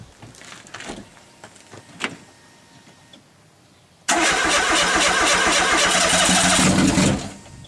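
A Ford Sigma engine fitted in a conversion cranks with a few uneven turns, then catches and roars into loud, steady running for about three seconds before cutting off.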